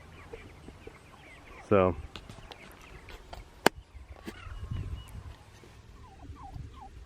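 Young chickens squeezing through a backyard fence cluck and gobble nearby, with one sharp loud burst, scattered chirps and rustling, and a brief spoken word.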